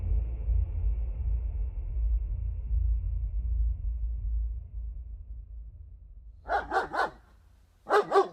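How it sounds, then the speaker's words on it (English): A homeowner's dog barks at a raccoon that has entered the yard: after a low rumble fades, a close, loud bark comes in a rapid burst of three, then a short pause, then another burst of two or three barks. "a homeowner heard his dog barking"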